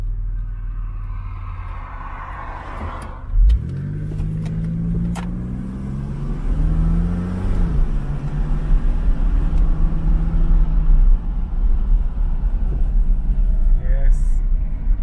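A Jaguar XJS 3.6L accelerates with a low engine rumble that climbs in pitch through a gear and then settles into a steady drone, with people talking briefly over it.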